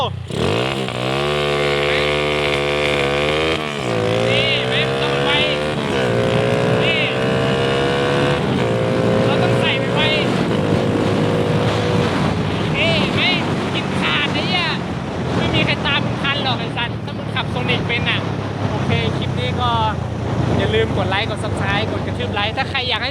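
A Honda Sonic motorcycle engine revs and climbs through rising and falling pitches, loud and close amid wind noise on the microphone, while people talk over it.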